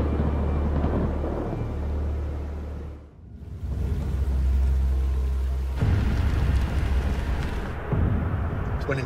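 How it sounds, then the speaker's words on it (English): Deep, rolling rumble of thunder building and fading, loud and low, with a faint rushing background, at an outback opal mining site. "You hear that? That's thunder."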